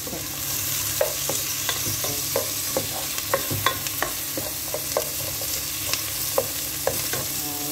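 Tomatoes sautéing in a pan for a simple mussel (tahong) dish: a soft continuous sizzle broken by repeated sharp clicks of a utensil stirring against the pan, close and fairly quiet.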